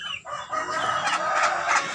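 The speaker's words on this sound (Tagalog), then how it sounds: "Ayan, ang mga manok, tumungtong na sa misa" Chickens on a Philippine farm crow and cluck close by, a loud rooster call stretching across the short moment with hens' clucks mixed in and no talk.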